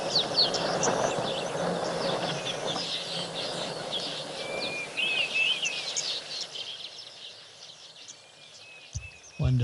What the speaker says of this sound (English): Evening's cuckoo calling as well